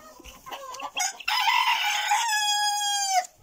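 Chickens at a farmyard feeding spot cluck and squawk close by, a short burst of calls ending in a loud drawn-out crow-like cry.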